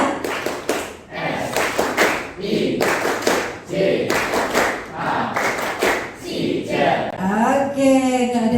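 A group plays the Indonesian clapping rhythm game tepuk sija at a school class session, clapping loudly in quick patterned bursts with short pauses and chanting voices mixed in throughout.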